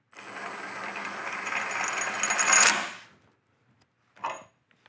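A Milwaukee compact impact wrench in tightening mode spins with a steady whirring whine for about three seconds that rises slightly before cutting off, followed by one brief, quieter burst of running.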